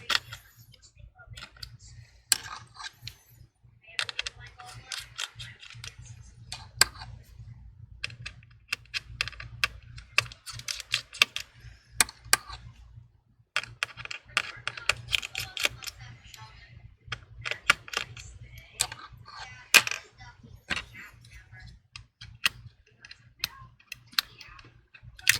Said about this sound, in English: I'll be using a screwdriver. This is a Y-shaped screwdriver. Let's go ahead and remove all the screws here.